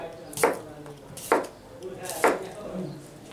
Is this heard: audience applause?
no